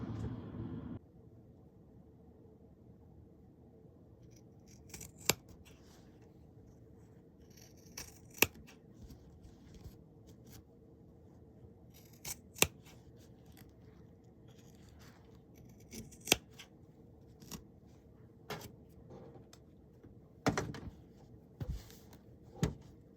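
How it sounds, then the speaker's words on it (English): Sharp scissors snip through fabric while trimming a sewn corner for a can koozie or dog bandana; several crisp, separate cuts land every few seconds, close and clear over a quiet room hum, with a cluster of quicker snips near the end. "instead of trimming both corners, I'm only gonna trim one."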